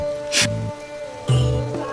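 Steady rain pattering on a surface, with a couple of brief louder splashes or rustles breaking through the continuous wash.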